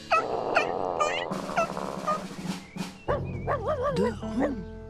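A dog barks and yips several times in a children's story, with pitched, wavering calls that come in short bursts between and over a narrator's speaking voice; the barks sound like a person imitating a dog.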